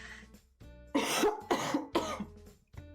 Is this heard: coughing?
yes